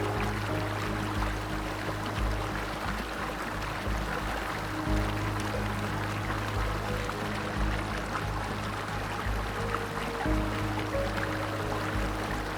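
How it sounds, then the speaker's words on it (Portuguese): Steady, dense rush of Godafoss waterfall in Iceland, 12 metres high and 30 wide, roaring continuously, broad and full, with no voices over it. "Cachoeira dos Deuses"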